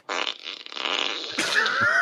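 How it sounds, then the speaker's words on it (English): A gassy, sputtering fart sound effect played by a smart-speaker novelty skill, loud and continuous for about two seconds, rising into a squeaky, whistling finish. "Here comes a gassy fart."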